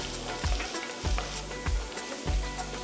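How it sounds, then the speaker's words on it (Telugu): Minced garlic and ginger sizzle steadily in hot oil in a wide pan, with a continuous crackling fry and a few soft spatula scrapes at regular intervals, close and with no voices. "ఒక టేబుల్ స్పూన్ అంత చిన్నగా తరిగిన వెల్లుల్లి ఒక టేబుల్ స్పూన్ అంత చిన్నగా తరిగిన అల్లం వేసి వేయించాలి"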